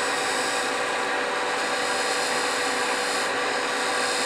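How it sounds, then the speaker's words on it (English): Steady, continuous rasping scrape of hand sanding on wood, close and fairly loud, with no pauses and no voices. "Because we all love sanding"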